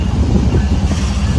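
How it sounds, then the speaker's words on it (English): A passing train rumbles loudly and steadily with low, broad wind-like roar and no voices, heard near a labyrinth walk outdoors. "It's fixing to get noisy because there's a train coming."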